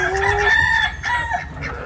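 Chickens on a small farm at dawn feeding time, a rooster crowing loudly and close with hens clucking steadily around it, no talk.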